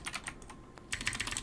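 Quick bursts of computer keyboard typing, a short flurry of keystrokes, a pause with a few scattered taps, then a denser run of clicks, close and moderately loud with no talking.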